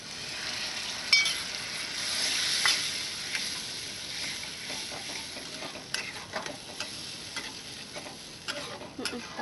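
Yogurt being stirred into okra frying on a low gas flame, a soft steady sizzle with scattered spoon scrapes and clicks against the pan, close and fairly quiet, no voices.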